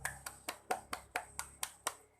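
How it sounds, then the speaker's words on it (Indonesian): Applause for a student who answered correctly in an elementary math lesson, heard as about nine evenly spaced, crisp hand claps over two seconds. The claps are fairly close and isolated, with no talking. "Kita beri tepuk tangan yuk untuk Nilam karena ia telah menjawab dengan benar."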